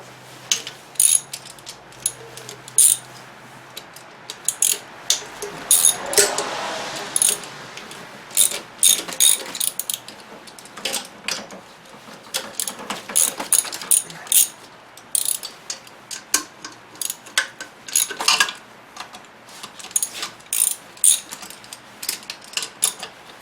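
A ratchet wrench clicks in repeated bursts while loosening the supercharger manifold bolts on an 8th-gen Honda Civic Si with a Comptech blower, sharp close ratcheting runs separated by short pauses.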